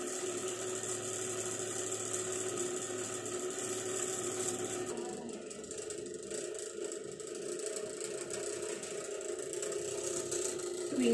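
A tissue homogeniser runs with a steady mechanical whir that shifts partway through as its speed is raised from about 100 rpm, the motor tone continuing unbroken to the end.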